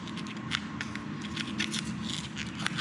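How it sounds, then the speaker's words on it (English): Rubbery Plasti Dip coating being peeled by hand off a 2018 Kawasaki Vulcan S motorcycle, close and fairly quiet. It sounds as a series of short, crackly tearing rips over a steady background hiss. "you start peeling it just like a sticker"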